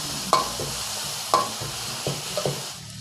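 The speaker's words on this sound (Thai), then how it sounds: "น้ำมันร้อนก็ใส่กระเทียมก่อนเลยครับ พริกครับ ต้องเผ็ดๆนะครับถึงจะอร่อย คั่วให้หอมก่อนครับ" Garlic and chilies stir-fry in hot oil for a spicy Thai beef basil dish, a steady close sizzle broken by several sharp scrapes and clanks of a spatula against the pan.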